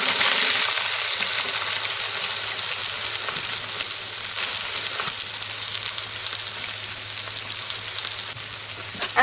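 Onions fry in a goulash cauldron with a close, steady, loud sizzle and crackle, plus occasional stirring scrapes, throughout and without talk.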